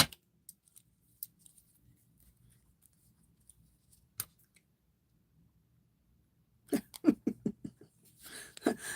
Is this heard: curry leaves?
no